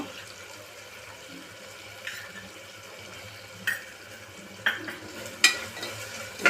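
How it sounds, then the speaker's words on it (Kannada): Tomatoes fry and are stirred in a pan for tomato bath, with a soft, steady sizzle broken by several sharp clinks of a spoon against the pan. "ಟೊಮೊಟೊ ಚೆನ್ನಾಗಿ ಫ್ರೈ ಆಗಬೇಕು."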